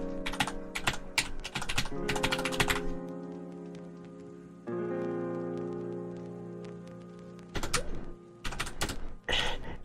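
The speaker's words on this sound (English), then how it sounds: "I am literally typing in Japanese input this something like this." Quick clusters of clicky computer keyboard keystrokes from Japanese-language input, coming in bursts with pauses between them over a steady background tone.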